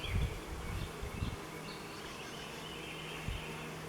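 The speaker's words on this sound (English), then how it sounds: "See what's going on with it, why there's so many bees on it." Bees buzz around a hive in a busy, close drone, several insects humming at once with brief louder passes near the start and fainter hum continuing throughout.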